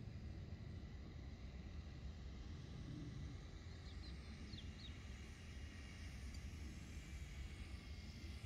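A Spitfire display aircraft on approach to land at an airfield drones as a faint, steady distant engine rumble with a low background hum, no voices.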